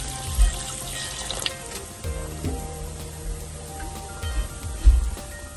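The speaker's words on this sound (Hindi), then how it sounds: "यहाँ पर मैं 2 ग्लास पानी जो है ना वो ऐड कर दूँ।" Water poured from glasses into a pot of simmering mutton korma in a home kitchen, a steady splashing pour with a few louder splashes near and no talking.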